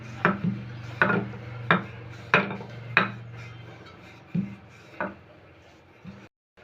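Peanut-stuffed poli dough is rolled out with a wooden rolling pin, giving a series of sharp wooden knocks and rolling rubs at a loose, roughly one-per-second pace, close and clear over a low hum.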